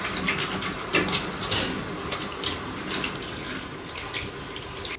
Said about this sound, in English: First thing we do when we wash our face, we wash our hands.